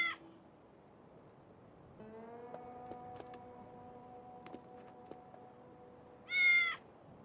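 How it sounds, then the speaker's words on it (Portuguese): A cartoon cat in the video game Lost in Play gives a short meow at the start and a louder, drawn-out meow near the end, with quiet game music in between. "Ó, um gato."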